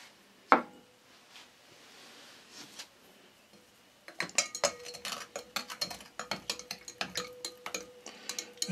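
A 2,000 ml beaker has potassium dichromate stirred into water, giving a rapid run of close glassy clinks and taps that grows busy in the second half after a single sharp knock and a quieter stretch.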